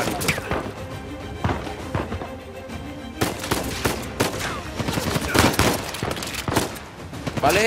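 Rapid bursts of gunfire in the video game Uncharted 4, sharp repeated shots and volleys with a lull before a denser stretch of fire, close and loud.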